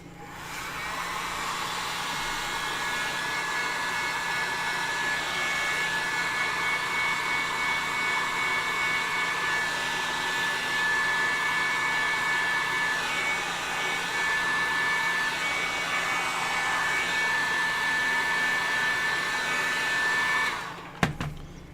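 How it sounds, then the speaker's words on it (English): A heat gun blows hot air onto foam to curl it, a steady close roar with a high whine that runs about twenty seconds and then cuts off with a click, with no talking. "Let's get the heat gun."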